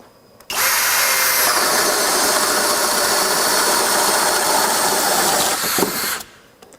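Kobalt XTR hammer drill boring through pressure-treated 2x10 lumber, a loud steady high-pitched whine that starts abruptly, holds evenly for about five seconds, then winds down and stops.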